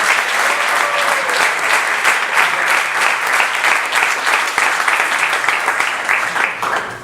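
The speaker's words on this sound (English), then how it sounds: "let's give them a big round of applause." A large audience at a temple opening gives a sustained, loud round of applause, dense clapping continuing steadily for several seconds before easing slightly at the end.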